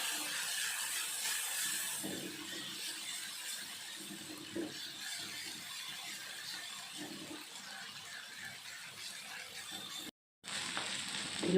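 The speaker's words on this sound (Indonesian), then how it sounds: "Sekarang kita goreng ya bumbu yang sudah diulek" Spiced paste of ground chilies and dried shrimp frying in a pan for gado-gado peanut sauce, a steady close sizzle with light stirring scrapes, continuous and fairly quiet with a brief dropout near the end.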